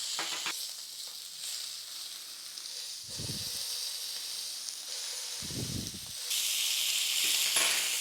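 A burger bun toasts in a hot pan, giving a steady close sizzle across the whole stretch, with two short low rumbling thumps and a brighter, louder hiss in the final seconds.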